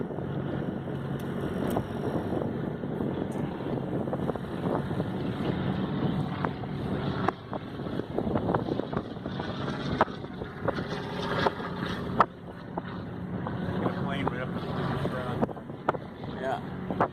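A sailboat's motor drones steadily at close range, mixed with broad wind rush and buffeting against the microphone. Low-level talk runs underneath throughout.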